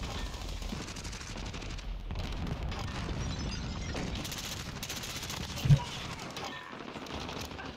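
Rapid bursts of gunfire in a first-person shooter video game rattle on through the whole stretch over a dense background of game noise, with one louder, sharper shot standing out near the end.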